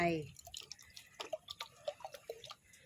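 Water mixed with photosynthetic bacteria poured onto a Monstera acacoyaguensis cutting, heard as a scatter of small, close drips and light splashes with a voice talking over it.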